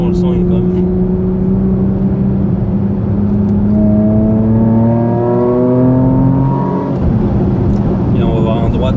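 A Porsche Macan GTS engine accelerating hard in Sport Plus mode, with rising harmonic tones climbing steadily through the gears before a brief lift, loud and close inside the cabin.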